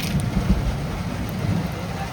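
Rain pours around an outdoor cooking spot in the Sundarbans, where ghee heats in a wok. A continuous close hiss of rain runs throughout, with low rumbles of thunder rolling underneath and no talk.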